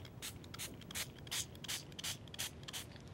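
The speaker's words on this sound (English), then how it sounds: "now I've added some of the liquid watercolor into some spray bottles" Seven quick spritzes from a spray bottle in a steady rhythm, each a short bright hiss, close and fairly quiet.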